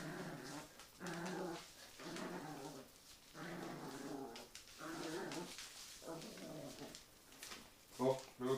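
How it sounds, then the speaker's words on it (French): A dog growls in low, rumbling bursts that rise and fall over several seconds, close by, with a few whimpering yips near the end. "C'est du chien d'attaque, ça."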